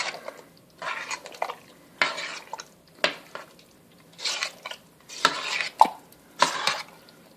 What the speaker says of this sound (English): Now I'm going to mix this really well.